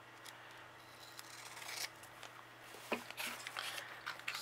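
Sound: scissors cutting a paper doily in half

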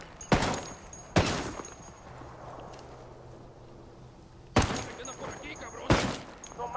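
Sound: gunfire in the video game Ghost Recon Wildlands

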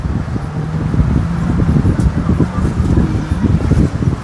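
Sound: cool wind blowing at Murud beach

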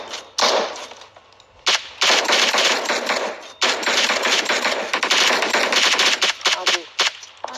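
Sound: gunfire in a shooting video game

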